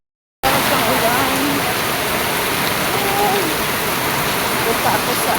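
Steady rainfall sets in after a brief silence, a continuous even wash of falling rain that stays loud and close to the end.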